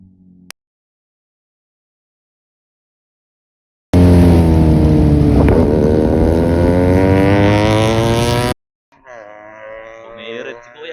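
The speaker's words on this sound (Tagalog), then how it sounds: "Wow, big bike." A big motorbike passes close on a road ride in Rizal, a loud engine roaring for several seconds with rising revs and a sweeping pitch shift as it goes by, then fading.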